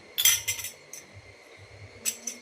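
Metal pooja utensils and household dishes are handled with a few bright clinks and clatters. They are separated by quiet pauses, close by, with no talk.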